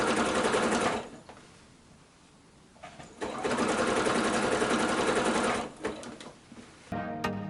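A sewing machine stitches binding onto a quilted project in rapid, steady bursts with a pause partway through, then resumes running close and clear before slowing to a stop near the end.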